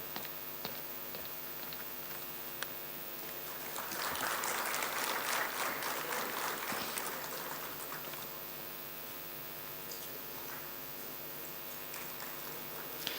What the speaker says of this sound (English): Clapping should be little louder,